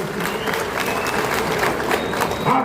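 An audience at a Punjabi political gathering gives a dense, sustained round of clapping to welcome speakers, steady and fairly close throughout.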